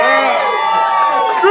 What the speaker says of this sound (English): Way to cheer for cancer.